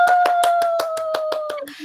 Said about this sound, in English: everybody give a big round of applause for our trainer, Howard Alvias.